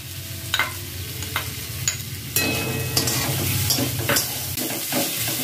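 Onion, tomato and ginger fry in oil in a pan over a gas flame, making a lively sizzle with repeated spoon scrapes and knocks against the pan.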